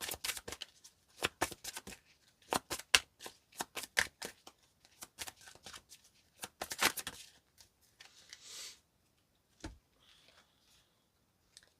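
Oracle cards being shuffled by hand: crisp, rapid riffling bursts come in quick rhythmic clusters, close and fairly quiet, then taper into a few soft taps and pauses toward the end.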